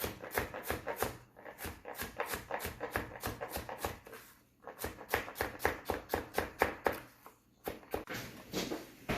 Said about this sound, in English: Now I'm cutting the plant-based sausages into pieces